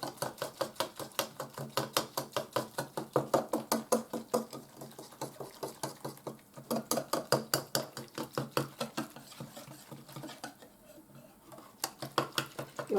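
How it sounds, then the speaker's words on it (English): A spoon stirs milk into dehydrated potatoes for scalloped potatoes, making a steady rhythmic run of close scraping clicks against the bowl, with a brief lull near the end. "So let me just stir this in."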